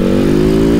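A TM SMR 450 Fi four-stroke supermoto engine brakes with the throttle closed, giving a steady, loud, buzzing engine drone with a constant pitch.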